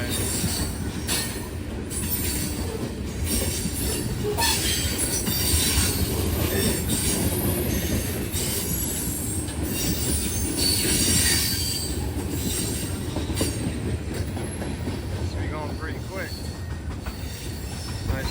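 A Norfolk Southern train rolls past at Elkhart, its wheels squealing loudly and continuously over a long stretch, with rumbling cars and occasional clatter throughout.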